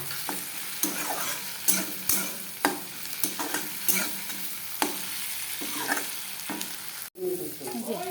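Onions sizzle steadily in a hot pan while a utensil stirs and scrapes at irregular intervals, close up, with no talking.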